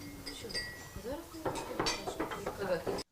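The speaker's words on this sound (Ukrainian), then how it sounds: "у їдальні чутно лише стукіт ложок" Spoons clink and knock against dishes in a busy canteen serving displaced people, irregular metallic taps with quiet chatter underneath.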